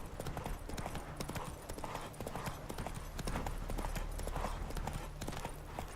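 Geralt's horse Roach gallops in The Witcher 3, a continuous, close rhythm of clip-clopping hoofbeats running throughout, with faint talk in the background.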